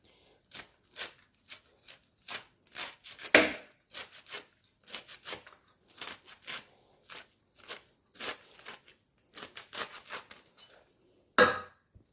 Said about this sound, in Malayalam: അപ്പോൾ നമ്മുടെ പയറിൻ്റെ ഇല മുഴുവനും ഇതവിടെ അരിഞ്ഞെടുത്തിട്ടുണ്ട്